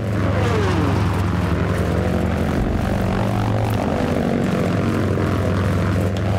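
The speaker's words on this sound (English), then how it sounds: "Oh, there's a plane." Propeller aircraft engine in Battlefield 1943 drones loud and steady as a plane flies close overhead, with its pitch sliding downward as it passes and no talking.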